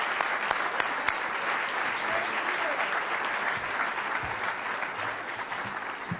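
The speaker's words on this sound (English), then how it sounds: "join me in extending a warm welcome with a rousing round of applause to Liz Walker" An audience at the 2005 African Presidential Roundtable public forum gives a warm, steady round of applause in a hall, a dense, moderately distant clatter of many hands with a few sharper claps standing out.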